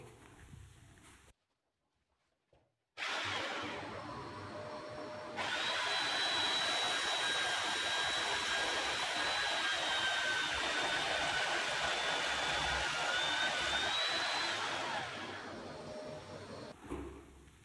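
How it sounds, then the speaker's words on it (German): After a brief silence, a drill whines to life and grinds steadily into a wall for over ten seconds, rising in pitch and intensity, then stops. "Loch bohren."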